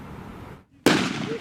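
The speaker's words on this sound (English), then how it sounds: "an IDF troop just started firing some warning shots at a man who was walking outside the festival site" Warning shots fired into the ground by IDF soldiers outside a festival site in Israel: one loud, sharp blast cracks in after a brief hush, following steady background noise, then rings and fades.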